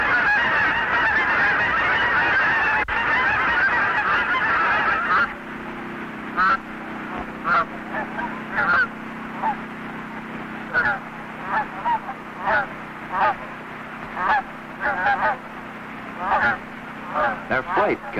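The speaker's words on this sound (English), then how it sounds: "the goose honks high" Geese honking in a flock: repeated short, nasal honks in an uneven rhythm at moderate distance, following a few seconds of other sound before the calls begin.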